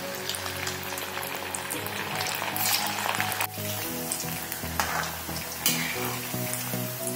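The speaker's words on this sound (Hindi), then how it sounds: "इस तरह से मीडियम फ्लेम पर हमें सारे पोटैटो वेजेस को डीप फ्राई कर लेना है।" Potato wedges deep fry in oil over a medium flame, a moderate, even sizzle with occasional splashes, accompanied by a steady tonal hum in the background.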